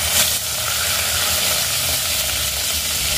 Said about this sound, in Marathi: आता यामध्ये आपण कढीपत्ता घालणार आहोत।